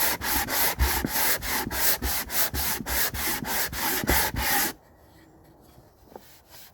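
Close, brisk back-and-forth rasping of 60 grit sandpaper on a wooden deck, about a dozen rhythmic strokes over several seconds before the scrubbing stops and it goes nearly quiet.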